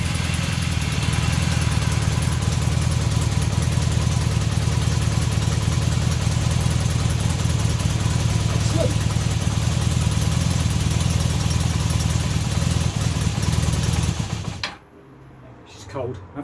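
A motorcycle engine, cold and just started with the choke on, idles loud and steady with a constant low throb for about fifteen seconds before cutting off abruptly, followed by faint quiet sounds.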